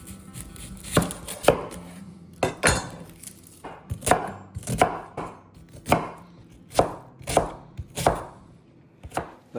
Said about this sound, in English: And I need 1 large bell pepper, which I'm going to just roughly chop.